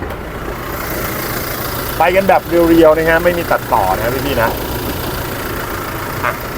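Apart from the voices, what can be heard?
Toyota Fortuner 2.8 diesel engine idling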